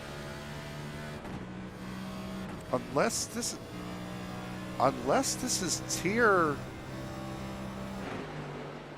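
A race car engine in the iRacing video game at Pocono Raceway gives a steady, droning hum with shifting tonal whines, heard throughout under a commentator's voice.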